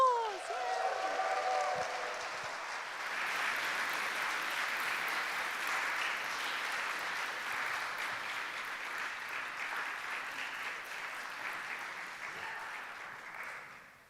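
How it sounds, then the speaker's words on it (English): Sustained applause from a large audience at an awards ceremony, steady and full for over ten seconds before tapering off, with a brief voice at the very start. "please give her a big round of applause"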